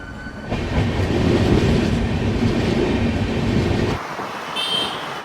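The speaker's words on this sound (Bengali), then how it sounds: "এছাড়াও লোকাল ট্রেন আছে যেটা পেছন পেছন আসছে" A local train rumbles steadily through Howrah railway station in the early morning, a loud, continuous roar of wheels and carriages that drops off sharply near the end, leaving quieter station ambience with a brief high tone.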